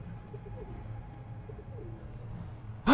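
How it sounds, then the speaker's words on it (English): A bird in the video game Elden Ring gives soft, repeated cooing calls at a low, steady pace, faint and somewhat distant, ending with a sudden loud burst of noise. "I hear the bird, I just don't see it."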